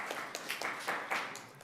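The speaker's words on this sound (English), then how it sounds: "Round of applause" Scattered applause at a St. Catharines city council meeting, several people clapping at a moderate distance in an irregular patter for under two seconds, fairly quiet overall.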